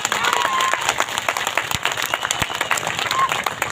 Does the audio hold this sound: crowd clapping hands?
yes